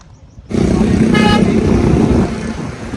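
A vehicle pulls up on a road with a loud, sustained engine and road rumble, a short horn toot sounding partway through, while voices talk nearby.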